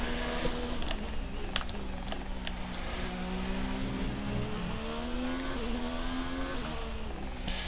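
An F1 2019 race car engine whines steadily and loudly in the video game, pitch rising and falling with gear changes, with occasional clicks over the continuous drone.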